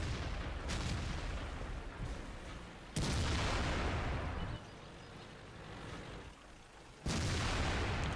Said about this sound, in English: I am taking pot shots at two guys on that ridge, because they have a chance of spotting me